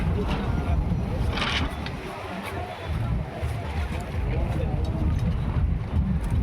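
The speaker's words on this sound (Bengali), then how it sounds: "আর হাওয়া দিচ্ছে প্রচুর" Strong wind at Puri beach buffets the microphone in rough gusts, with a busy market's background noise and someone talking over it.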